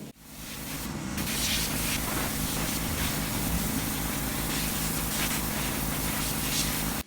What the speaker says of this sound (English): The high pressure washer helped a lot too.